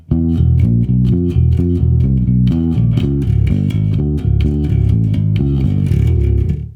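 A slow, deliberate bass guitar death metal riff with sustained low notes in a steady pattern of 6/4 and 7/4 bars, played alone and close.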